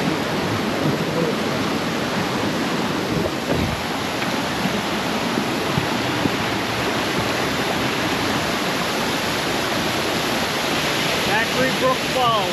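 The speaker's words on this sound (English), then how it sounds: "Factory Brook Falls." Factory Brook Falls roars steadily at close range, a dense, unbroken rush of falling water that fills the whole clip, loud and constant with no pauses.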